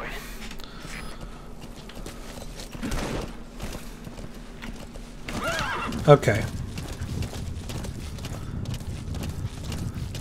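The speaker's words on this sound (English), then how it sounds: "call for my horse" In Metal Gear Solid V: The Phantom Pain, a horse whinnies and its hooves clip-clop as it arrives, with a sharp neigh near the middle, while a player talks briefly over it.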